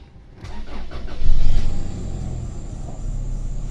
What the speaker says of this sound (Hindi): ज़रा एक बार मैं गाड़ी चालू करके दिखा देता हूँ आपको।